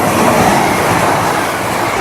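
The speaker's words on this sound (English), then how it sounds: "Outside I have the real railway." A real train on the East Coast Main Line roars past close by, a loud, steady rumble with a faint rhythmic clatter of wheels and no break in the noise.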